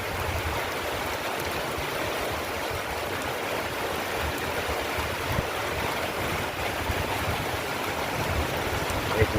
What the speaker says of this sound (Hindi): तेज बारिश हो रहा है आज सुबह सुबह।